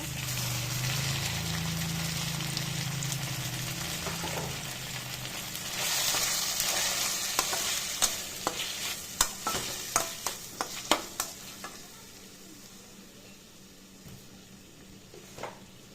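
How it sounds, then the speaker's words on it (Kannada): Chopped onions and tomato fry in an oil-filled pan, a steady soft sizzle under stirring that grows busier midway, then a run of sharp spoon scrapes and taps against the pan before settling back to a quiet fry. "ಒಂಚೂರು ಫ್ರೈ ಆಗಬೇಕು ಈರುಳ್ಳಿ, ಒಂಚೂರು ಫ್ರೈ ಆದಮೇಲೆ ತೋರಿಸ್ತೀನಿ"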